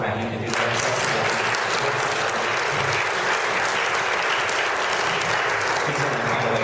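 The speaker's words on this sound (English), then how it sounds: "if you want to clap for Matt, you can do that" A church congregation claps through a worship service, sustained, steady, dense applause from many hands filling the room from start to finish.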